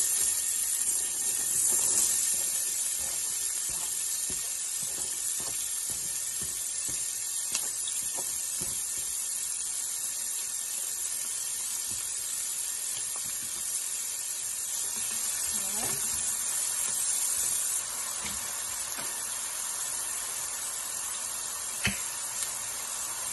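Onions, ginger and minced garlic sizzle in a hot pan for fried potatoes, a steady bright hiss running throughout with occasional stirring clicks, under intermittent talking.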